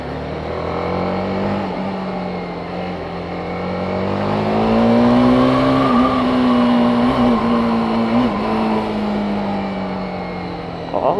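A motorcycle engine in second gear on a muddy trail, a loud, close drone whose pitch climbs and swells as the throttle opens, then wavers and eases back down near the end.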